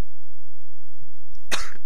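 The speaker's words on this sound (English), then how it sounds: "That was me coughing." A single short, harsh cough bursts out near the end after quiet low rumble, close and loud, during an online match.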